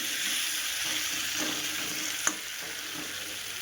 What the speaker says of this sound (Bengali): আমি এগুলো ভালো করে লাল লাল করে এরকম নাড়তে থাকি ভালো করে কষিয়ে নিই